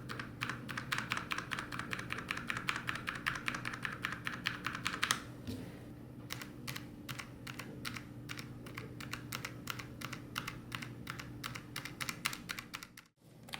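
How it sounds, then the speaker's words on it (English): Steady, fast typing on a Logitech G915 X wireless mechanical keyboard with tactile switches, a dense stream of crisp close keystrokes with a brief pause midway before the clatter resumes. "I really enjoy typing on this keyboard"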